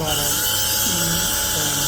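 An implant drill runs steadily through jawbone during basal dental implant surgery, a continuous high whine with a faint grinding, pitch-shifting undertone, close and unbroken.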